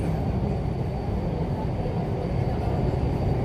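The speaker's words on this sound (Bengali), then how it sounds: "এখন মেট্রোর মধ্যে রয়েছি" Steady low rumble and rolling rail noise from inside a moving metro train in Jaipur, a continuous dense drone at constant loudness with no talk.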